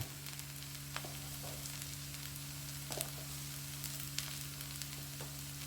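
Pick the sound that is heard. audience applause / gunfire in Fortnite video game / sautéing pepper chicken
sautéing pepper chicken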